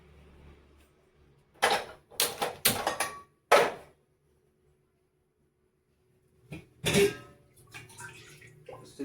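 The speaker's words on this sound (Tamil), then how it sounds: "தேவையான அளவு தண்ணி ஊற்றிக்கணும்." Water is poured into a cooking pot on a stove in a few splashy bursts, then stops and resumes once more, close and fairly quiet against a silent kitchen.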